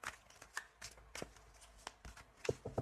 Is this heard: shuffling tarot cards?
yes